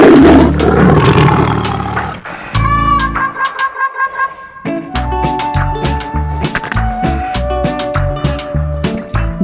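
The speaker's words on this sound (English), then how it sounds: "Tiger." A tiger roars loudly and harshly at the start, then a series of short rhythmic growls and sharp percussive hits follows, close and dominant over a music-like background.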